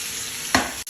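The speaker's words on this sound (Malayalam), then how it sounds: "ചട്ടി ചൂടായിട്ടുണ്ട്. നമുക്ക് മീന് പൊള്ളിച്ചെടുക്കാമേ." Marinated fish frying in a hot pan, a dense steady sizzle with a brief louder crackle burst midway and a momentary drop near the end, close and loud.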